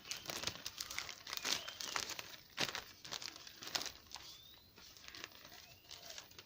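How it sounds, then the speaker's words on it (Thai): A plastic bag crinkles and rustles as a hand reaches inside, a close, irregular run of crumpling bursts with brief pauses between them. "เราก็เอาถุงมานะคะ แล้วก็ ต้องเอามือล้วงไปก่อนนะคะ"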